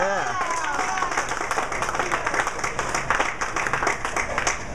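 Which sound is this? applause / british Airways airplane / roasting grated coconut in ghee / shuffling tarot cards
applause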